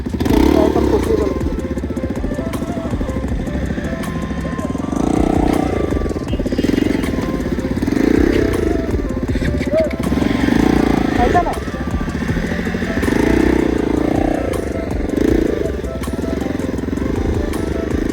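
A motorcycle stuck in thick mud on a rural track revs repeatedly in rising and falling surges, engine labouring with clattering thumps, close and loud, with people talking over it.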